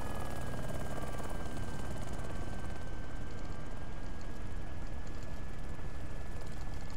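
A Little Bird helicopter in a military video game drones steadily overhead, its rotor and turbine noise loud and constant, with a faint tonal whine throughout.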